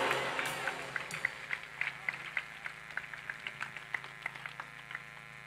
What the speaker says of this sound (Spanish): Denle un aplauso a Cristo que está vivo.